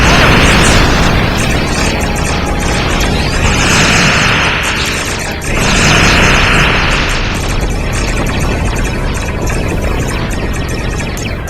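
Starship weapons fire and explosions in a Star Trek battle, a loud, dense roar of rumbling booms and bursts that rolls continuously, dipping briefly midway before surging again.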